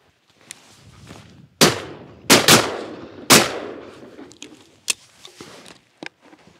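Several loud shotgun shots crack outdoors during a ptarmigan hunt with a pointing dog, a single blast followed by a quick pair and another, each echoing away, with fainter clicks and rustling afterward.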